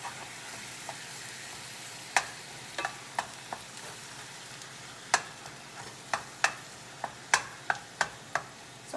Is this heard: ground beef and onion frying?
yes